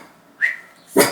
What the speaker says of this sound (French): Depuis ce matin, il aboie.